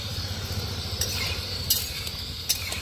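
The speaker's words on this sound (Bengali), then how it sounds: "তেল আমাদের হয়ে গেছে একদম গরম। তেলে কিছু ফোড়ন দিয়ে দিই।" Dried red chillies, whole garam masala spices and bay leaves sizzle softly in hot oil for a Bengali chicken kosha, a faint steady hiss broken by a few sharp clinks of a utensil on the pan.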